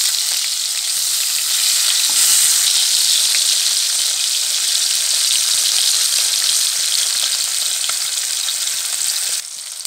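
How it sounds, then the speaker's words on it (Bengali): Rui fish fry in hot oil with a loud, steady, continuous sizzle and crackle, joined by faint clinks as the pieces are turned, with no talking. "মাছগুলো এক পিট ভাজা হয়ে গেছে, এখন আমি এটাকে উল্টে দেব।"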